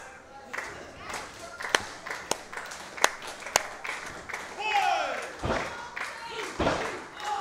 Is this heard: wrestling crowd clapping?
yes